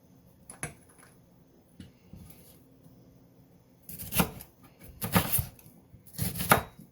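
Knife chopping vegetables, including half a red onion, on a cutting board: a few scattered single cuts at first, then three dense bursts of rapid chops, close and clear with no talking.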